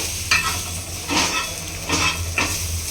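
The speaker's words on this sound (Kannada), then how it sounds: "ಈರುಳ್ಳಿ ಸ್ಲೋ ಫ್ರೈ ಮಾಡಿಕೊಂಡೆ ಸುಮ್ಮನೆ ಹಿಂಗೆ ಕಲಿಸ್ತಾರೆ" Sliced onions slow-fry in a pan with a steady sizzle and hiss, and a utensil stirs them in four distinct scraping sweeps, close by.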